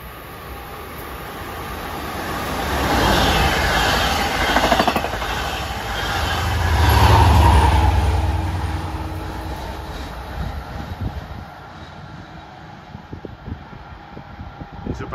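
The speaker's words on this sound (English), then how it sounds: "here comes train 611 from Port Jefferson to Long Island City" A Long Island Rail Road commuter train from Port Jefferson, running on triple track at Carle Place in the early morning, approaches with a rising rumble that swells twice and then eases off into faint rail clatter. No one talks.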